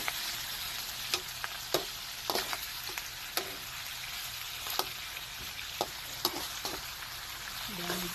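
Catfish adobo with soy sauce sizzling and frying in a pan, stirred with sharp spoon scrapes and clinks at irregular moments over a steady hiss, close and fairly quiet, with no talk.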